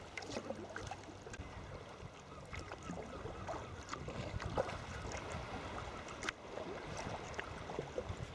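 Wind rushes across the sea around a kayak paddling toward Porth Dinllaen, a steady broadband roar with light splashing and buffeting against the microphone. It is fairly faint and continuous, with no voice.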